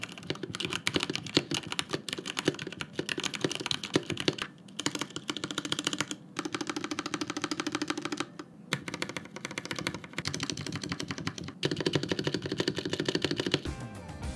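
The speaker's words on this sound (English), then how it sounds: "The switches used are your regular Cherry MX Red." Rapid, continuous clacking of a mechanical keyboard with Cherry MX Red switches, close and crisp, with brief pauses between bursts of typing and no voices.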